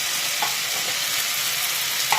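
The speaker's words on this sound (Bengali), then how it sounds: "এবার ফুলকপি আলু ভাজা দিয়ে দেবো।" Fried cauliflower and potatoes tossed into a sizzling spice paste in a pan, making a loud, steady frying hiss close by, with a couple of brief utensil scrapes as they are stirred.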